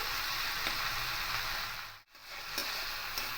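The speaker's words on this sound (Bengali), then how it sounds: "চিংড়ি মাছগুলো হালকা করে ভাজা হয়ে গেছে" Shrimp frying in oil produce a constant bright sizzle, briefly cut off by a short gap, then resuming with a few soft clicks.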